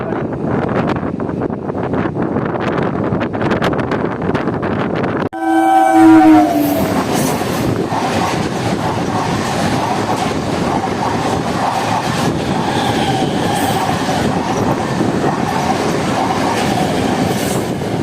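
A passenger train departing Lohapur station rumbles and clatters continuously close by, a brief horn sounding early on, with rhythmic clickety-clack and wind buffeting throughout.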